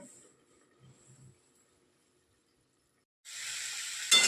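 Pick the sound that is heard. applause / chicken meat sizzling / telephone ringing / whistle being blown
chicken meat sizzling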